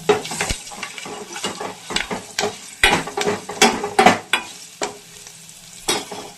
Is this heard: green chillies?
yes